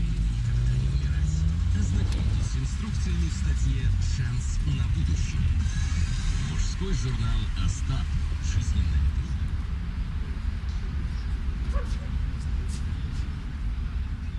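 Steady low road rumble and engine drone inside a moving car in Moldova, continuous and fairly loud throughout, with faint higher sounds above it.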